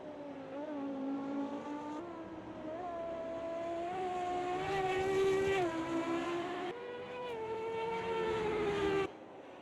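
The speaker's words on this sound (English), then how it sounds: "The car absolutely sounding sensational." Onboard engine of a race car in an endurance race at Silverstone, a loud, continuous howl that climbs in pitch, drops sharply at each gear change and climbs again, with no talk over it.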